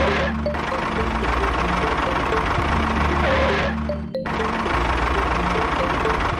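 A toy tractor's small motor runs steadily throughout, a continuous buzzing whir with light rattling and a brief dip just past the four-second mark.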